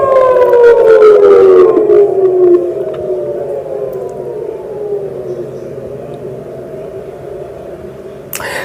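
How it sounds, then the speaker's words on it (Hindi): Air raid sirens wail across Israel after missile strikes, one loud rising-and-falling tone sweeping downward and then holding a long, steady drone, with fainter distant sirens layered underneath and no voices. "जब एक के बाद एक मिसाइल वहां पर गिरी तो सायरन बजने लगे"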